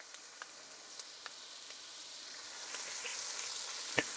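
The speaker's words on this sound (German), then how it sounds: "So, Ingwer. Kann man schön anbraten." Ginger frying in a pan, a soft steady sizzle with scattered small pops and crackles, close and fairly quiet, with one sharper tick near the end.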